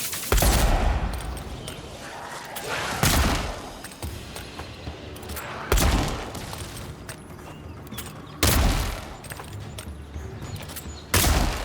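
Gunfire in the fantasy role-playing game Avowed, shots fired at a shadow: four sharp, loud bursts spaced a few seconds apart over a low, busy background.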